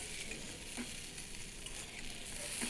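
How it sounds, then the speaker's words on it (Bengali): Fried morola fish and fried lentil dumplings being stirred together in a pan give a faint, steady sizzle with soft scraping, and no voices. "সমস্ত উপকরণগুলো আমি ভালোভাবে মিশিয়ে নেব।"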